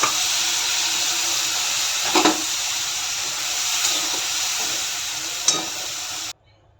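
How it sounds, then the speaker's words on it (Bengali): Tomato with chilli and cumin powder sautéing in a pan, a steady close sizzle and hiss with a few brief stirring scrapes, cutting off abruptly near the end. "এই টমেটো দিলাম, এই যে লঙ্কা গুঁড়ো জিরে গুঁড়ো দিয়ে দিলাম। এটাকে কষাবো।"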